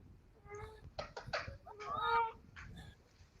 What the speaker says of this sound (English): Adam, where's your cat?